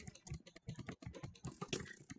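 Computer keyboard keys click in a quick irregular run of close, crisp taps, sounding alone and fairly faint.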